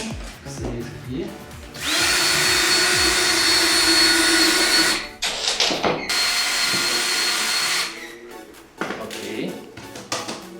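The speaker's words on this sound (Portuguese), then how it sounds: "eu estou usando a parafusadeira para fazer esses furos" A cordless drill-driver whines loudly and steadily while boring holes for Durafloor baseboard installation, running in two sustained bursts of several seconds each, separated and followed by brief rattling handling noise and some talking.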